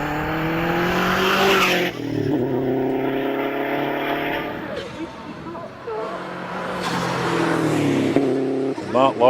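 Hillclimb race car on AMS tyres climbing the hill at Harewood, engine revving hard through gear changes with tyre squeal, loud and close, under a commentator's voice.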